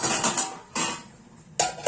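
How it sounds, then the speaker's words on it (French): A metal lid clinks onto a pot of cherry syrup in a few short, sharp metallic clatters separated by brief pauses, close and fairly loud. "on va y mettre un couvercle"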